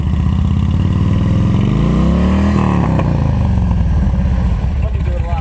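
A motorcycle engine idles and revs gently during advanced slow-speed riding practice, a loud close throbbing hum that rises and falls in pitch with throttle changes, with speech audible under it.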